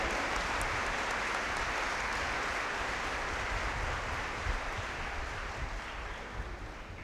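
A church congregation at Sunday Mass on the sixth Sunday of Easter, celebrating Mother's Day, gives sustained, dense applause that fills the hall evenly and loudly throughout with no pauses.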